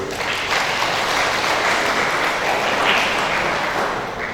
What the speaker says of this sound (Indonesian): jadi boleh tepuk tangan